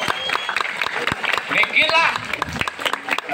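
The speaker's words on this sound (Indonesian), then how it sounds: "Tapi tepuk tangan dulu." An audience at a Balinese calonarang comedy performance at a temple in Klungkung claps in scattered, uneven bursts, mixed with crowd noise and a few voices.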